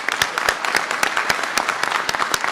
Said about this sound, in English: I want to ask for another round of applause for them.